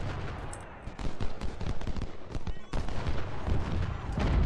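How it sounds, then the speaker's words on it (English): Artillery and musket volleys at Gettysburg in Ultimate General: Civil War sound as a dense, continuous rattle of gunfire with heavier booms scattered through it, loud throughout, with a voice talking over the battle. "Patriot skirmishers taking a beating from some artillery"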